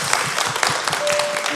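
Applause from an audience at a healing concert for emotional labor workers, a dense, steady clatter of many hands clapping together, fairly close and sustained for its brief length.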